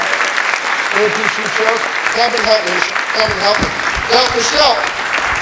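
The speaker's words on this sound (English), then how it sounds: "Give Michelle a round of applause." An audience claps steadily for Michelle, a volunteer called up at a Halloween Houdini seance show in San Francisco, while a voice talks over the dense, sustained applause.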